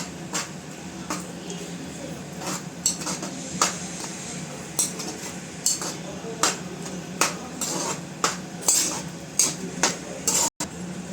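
Ginger being stirred into simmering tomatoes in a cooking pot, a spoon repeatedly scraping and clinking against the metal in a steady irregular rhythm, close and moderately loud over a low bubbling background.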